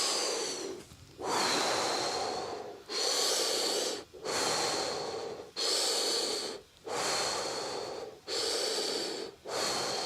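Heavy, rhythmic breathing from exercise training, with six long hoarse breaths, each forceful and close, separated by brief pauses.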